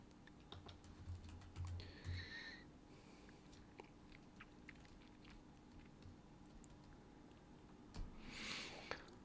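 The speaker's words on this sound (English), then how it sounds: "keep typing" Keys clack on a computer keyboard in scattered, quiet bursts, with a few sharper taps and pauses between runs of keystrokes; no one speaks.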